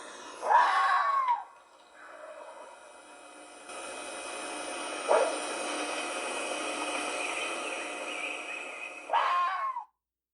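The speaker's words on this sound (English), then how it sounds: "If you guessed that is a fox screaming, you got it right." A fox screams in bursts, short harsh wailing cries at the start, middle and end over a steady hiss of background noise, with no voices.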